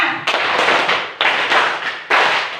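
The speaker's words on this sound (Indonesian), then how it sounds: "Coba tepuk lima" A class claps in unison on command, four sharp group claps in quick succession, each a broad burst fading before the next, loud and close with no talk.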